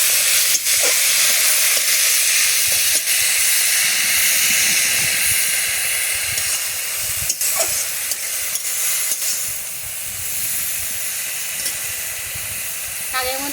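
Greens go into a hot pan for a traditional Bengali dish and give off a steady, loud hiss and sizzle. Occasional stirring clatters sound over it, and the sizzle eases slightly toward the end.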